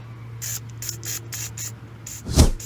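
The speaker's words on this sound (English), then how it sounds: "I'm gonna go ahead and spray this" Several short hissing bursts from a spray can in quick succession, close by, followed by a thud, while penetrating spray is applied to a cotter pin and nut during a Nissan Altima CV axle replacement.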